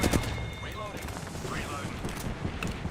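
Enemy gunfire in Apex Legends, dense bursts of shots and impacts rattling over the game's combat noise, loud and busy, with a voice talking over it.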